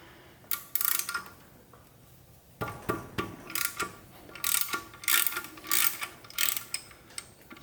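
A ratchet wrench clicks in rapid bursts while loosening bolts on the power steering of a Cherokee Chief FSJ Jeep, with repeated ratcheting strokes and short pauses in a close garage setting.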